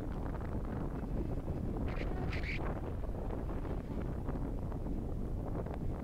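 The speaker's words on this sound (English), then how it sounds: "Yes, very windy," Strong wind buffets the microphone on the open upper deck of a boat travelling from Bangkok to Koh Samui, a steady loud rumble filling the whole stretch with no talk.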